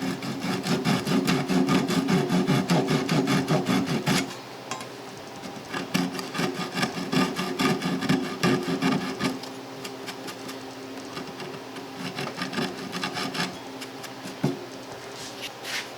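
Steady back-and-forth sawing cuts through an oak locating pin on an antique oak table, trimming it flush. The rasping strokes run loud and close, with a brief lull around a third of the way through.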